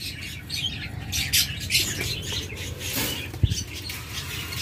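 A pair of green opaline budgerigars of local breed calling, with quick chirps and squawks close by, plus soft rustling and a brief wing flutter.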